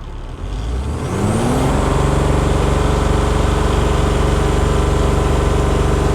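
A diesel truck engine starts and settles into a loud, steady idle, a close, even rumble that keeps on with no talk over it.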